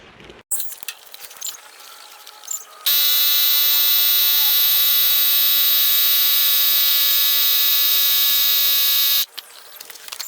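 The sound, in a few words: battery-powered air pump inflating tyres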